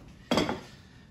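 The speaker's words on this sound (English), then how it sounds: "I will take a couple dishes, like so, and I will" Ceramic dishes set down with a single clattering clink, close and fairly loud, in a kitchen where Hungarian paprika bacon is being pressed; a short ring fades afterward.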